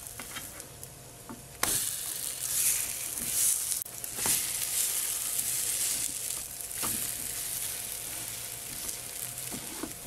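Slices of panettone French toast fry in a pan over a lowered flame, a loud, continuous sizzle that jumps up after a quiet opening couple of seconds and holds steady, with a few utensil taps.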